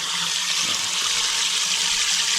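Water gushing out of a plumbing cleanout under a building, a loud continuous rushing hiss that stays steady throughout, close up and with no voices.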